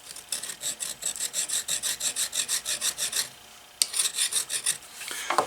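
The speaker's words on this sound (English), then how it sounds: "The rest of this is still fairly soft, so I can file it and stuff pretty well." A hand file rasps rhythmically across the steel head of a vintage cobbler hammer, about a dozen even back-and-forth strokes close up, then a brief pause and another run of strokes.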